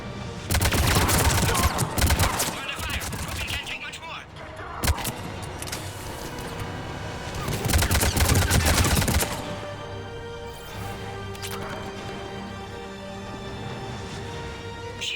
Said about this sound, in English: We're under fire! Krogan can't take much more!